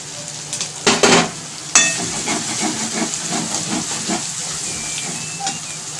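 Malvani masala and turmeric frying in a pan with ginger, garlic and chilli paste, a hissing sizzle with bursts of steamy spitting and a sharp clatter of a spoon, then steadier frying with light stirring, no speech.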